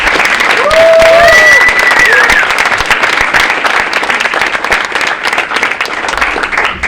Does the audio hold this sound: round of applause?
yes